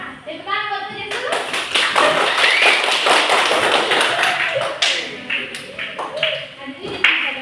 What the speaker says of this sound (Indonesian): tepuk tangan buat Ude dulu